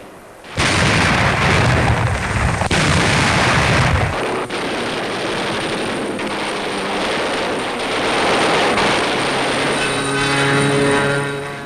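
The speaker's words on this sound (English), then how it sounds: "an American carrier force was dive-bombed by Jap land-based aircraft" Aircraft roar overhead as they dive-bomb an American carrier force in 1945, a loud, sustained engine drone with heavy blasts and anti-aircraft fire mixed in. The recording is from an old newsreel, with no narration over it.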